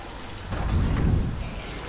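The Rain of Frogs skill effect from the Diablo 3 video game plays as a dense rumbling, rain-like wash that swells in the middle of a short stretch, steady and fairly loud with no voices.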